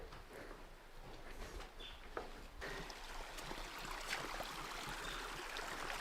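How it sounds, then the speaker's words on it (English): A creek running near an abandoned house, a soft steady wash of flowing water with faint scattered splashes and trickles, fairly distant and uninterrupted by talk. "That's the creek that feeds this lake"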